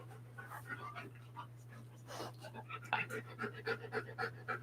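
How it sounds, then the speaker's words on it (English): A puppy pants in quick, rhythmic breaths close by, growing more distinct toward the end, with a low steady hum underneath and a voice talking over part of it. "and we have a puppy"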